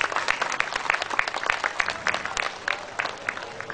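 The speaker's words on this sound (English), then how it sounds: "How about giving our parents a warm round of applause?" An audience at a high school graduation claps for the parents, dense applause with distinct individual claps standing out, steady and fairly loud throughout.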